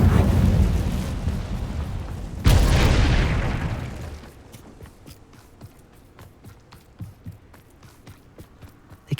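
An Incendio fire spell is cast in the Hogwarts Legacy game, a loud booming burst of roaring flame that fades over a few seconds, followed by quieter footsteps and faint clicks.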